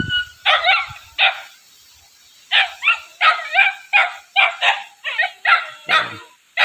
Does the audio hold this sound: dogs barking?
yes